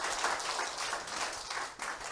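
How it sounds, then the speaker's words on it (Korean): Attendees at a sales and marketing seminar clap together briefly. The applause is a soft, dense and fairly distant wash that dips for a moment near the end. "박수 치려면 큰 박수 치세요."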